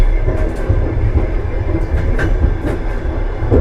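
Soviet night train running on the tracks between Chișinău and Bucharest, a steady loud rumble of wheels and carriage with faint clickety-clack rhythm and occasional squeals, no voices.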